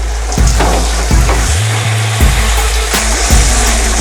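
Squash for Filipino pinakbet sizzles loudly in a hot pan while being stirred and mixed, with repeated scraping strokes over a steady frying hiss, no talking.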